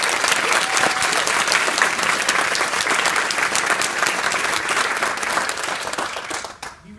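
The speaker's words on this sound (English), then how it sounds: "And how about a round of applause for Jake Oakley?" Loud, sustained applause from an audience after a speech, dense steady clapping for several seconds that tapers off at the end.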